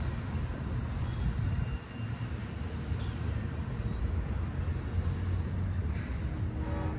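The Amtrak Coast Starlight passenger train departing Oakland Jack London Square station rumbles along steadily with low wheel and rail noise, a continuous heavy rolling sound with faint squeals, no voices.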